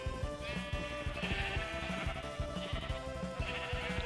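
Several quiet bleats from Minecraft sheep recur every second or so against a constant layer of game music, with no voices.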